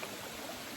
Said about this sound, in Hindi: मुझे झरने की पानी की आवाज़ बहुत पसंद है।